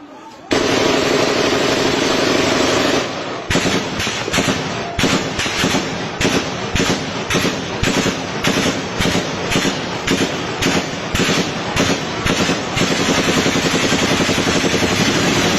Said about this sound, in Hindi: उसके अंदर आपको बाकायदा गोली चलने की आवाज़ सुनाई देगी